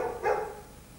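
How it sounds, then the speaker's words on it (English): A dog gives one short, fairly loud bark of about a second, standing alone with no talking around it. "That dog is fucking irritating."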